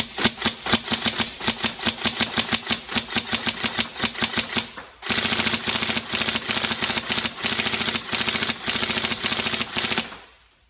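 Rapid bursts of mechanical buzzing fire from a TM M4 Socom NGRS airsoft gun, its gearbox cycling in fast repeated volleys, with a brief pause midway before a second sustained burst, loud and close.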